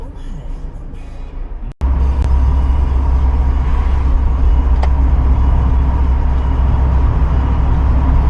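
A Mazda MX-5 Miata drives out of a city toward the Autobahn, its engine and road noise forming a loud, steady rumble that swells after a brief cut near the start, with someone talking over it.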